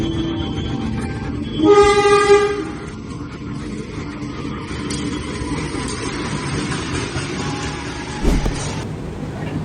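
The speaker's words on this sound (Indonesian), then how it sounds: "di jalur 6 ada kereta Pramex yang baru datang dari Kutoarjo" A Prameks passenger train from Kutoarjo rumbles steadily into Yogyakarta station, with a loud horn blast early on and the clatter of rail cars continuing throughout.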